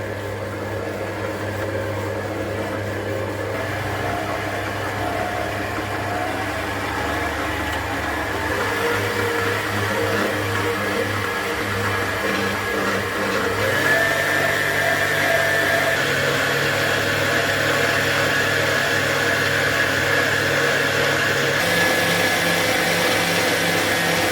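An electric mixer whirs steadily as it beats sugar into sponge cake batter. It starts at a slow speed, and its droning motor pitch shifts upward partway through. The sound is continuous, close and fairly loud.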